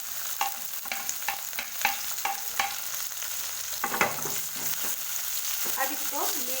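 Onion, ginger and garlic frying in hot oil in a kadai for kadai paneer, a steady sizzle broken by repeated scraping stirs of a spoon against the pan, close and clear with no talking.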